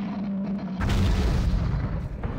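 In a Godzilla game on PS3, structures blow apart as Godzilla destroys them. A steady low hum gives way to a sudden heavy, rumbling boom that rolls on as a deep, loud roar of debris.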